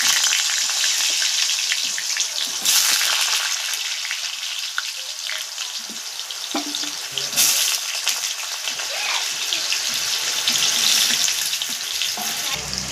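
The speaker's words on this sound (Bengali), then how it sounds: "তেল গরম হয়ে গেছে, আগে আমি আলুটা ফ্রাই করে দেবো।" Potato pieces frying in hot oil in a home kitchen, a steady loud crackling sizzle with bursts of bubbling and occasional stirring throughout.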